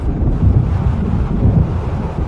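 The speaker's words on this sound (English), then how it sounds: "It seems there's a storm coming." Stormy wind roars steadily over crashing sea waves near an island in the Alan Wake video game, a loud, continuous low rumble with no distinct thunder clap standing out and no talking.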